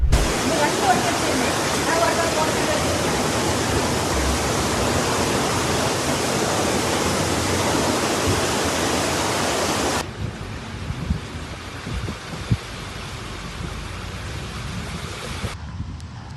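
Floodwater rushing through city streets after heavy rain in Saudi Arabia, around Mecca, Medina and Jeddah: a loud, steady broadband roar of torrent for about ten seconds, then a quieter rushing wash with scattered knocks.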